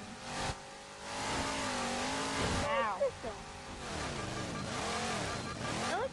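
A slow, small car in the video game Halo 4 hums and revs with a wavering engine pitch, close and steady, while excited voices talk and shout over it.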